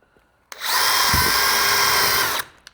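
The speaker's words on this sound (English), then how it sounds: "you just want to drill 2 holes straight through the PVC" A power drill whirs at high speed for about two seconds, boring straight through PVC pipe, then stops; brief and close.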